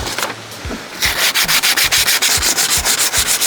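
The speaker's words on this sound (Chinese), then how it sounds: "然后呢，我们用一个220的砂纸在这里进行一个打磨。" 220-grit sandpaper scrubs a car body panel in quick, rhythmic back-and-forth strokes, loud and close, about a dozen rasping passes.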